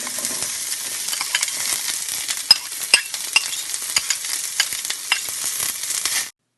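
Whole spices and onion pieces fry in three spoons of hot oil in a pan for chicken curry, giving a steady loud sizzle with occasional sharp pops and stirring clicks before it cuts off abruptly.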